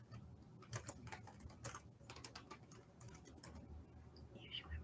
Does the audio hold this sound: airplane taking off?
no